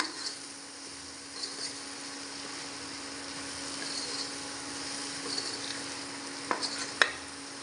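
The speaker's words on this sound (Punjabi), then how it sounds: "ਇਹਨਾਂ ਨੂੰ ਆਪਾਂ ਮਿਕਸ ਕਰ ਲੈਨੇ ਆ ਨਮਕ ਤੇ ਮਿਰਚ ਨੂੰ" Vegetables with salt and green chili are stirred and mixed in a pan or bowl, giving a soft, steady scraping rustle under a constant low hum, with a couple of sharper clinks near the end.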